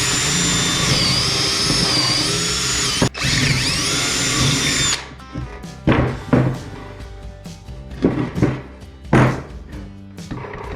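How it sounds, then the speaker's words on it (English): A hand drill finishing holes for a newel post whines loud and steady for about five seconds, then stops; a scatter of knocks and clunks follows as the work is handled, with no one talking. "we'll finish these 4 holes with a hand drill"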